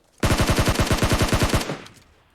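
A loud, close burst of automatic gunfire in PUBG Mobile, about a dozen rapid shots in quick succession, then a brief fading echo.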